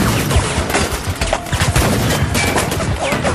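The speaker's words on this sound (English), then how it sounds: "Taking small arms and RPG fire, 300 meters north of my position." Small arms gunfire crackles in a simulated combat scenario, loud, close rapid bursts and pops overlapping into a dense fusillade over a few seconds.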